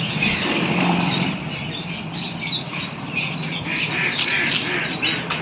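Harsh, continuous parrot squawking with overlapping shrill calls, loud and close, from several birds at once in a bird shop.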